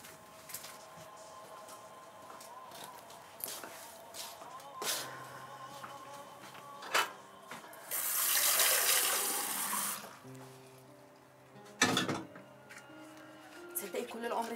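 Water pours from a kitchen tap while a cup of tea is being made, a hissing gush for a few seconds amid clinks and movement, with people talking around it.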